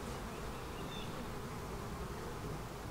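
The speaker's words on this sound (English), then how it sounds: "A lot of bees on that frame." A dense, steady hum of many honey bees, mostly nurse bees, buzzing close by on a hive frame, continuous and even with no other sounds.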